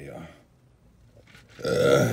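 A burp after eating hot, spicy baked food topped with red and green sauce, one short gurgling belch near the end, close and fairly loud, following a few faint voice sounds.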